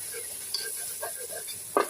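Hot oil sizzles in a wok as field rat is stir-fried, a steady close hiss with a few louder spits and a scrape near the end.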